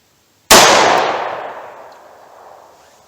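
A single sharp, loud gunshot from a .38 Special +P Buffalo Bore lead-free round, with a sudden crack that rings and decays over a couple of seconds.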